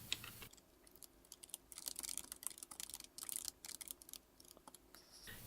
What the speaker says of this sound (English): I'm going to type that whole thing in